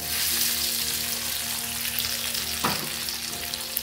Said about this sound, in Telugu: వేయించుకున్న పోపు వేసుకుందాము.